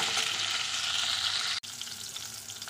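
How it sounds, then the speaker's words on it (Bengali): Pointed gourd pieces fry in hot oil in a pan, giving a steady, close hiss and sizzle that drops out for a split second midway. "পটলগুলোকে এইভাবে ভেজে নিয়েছি"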